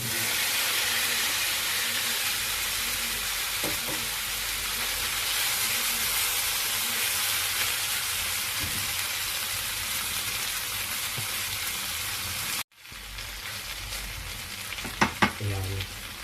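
Beef stir-fry sizzles loudly and steadily in a hot pan with a continuous frying hiss, then after a brief cutoff the sizzle resumes softer, joined by a few clinks of a utensil against the pan.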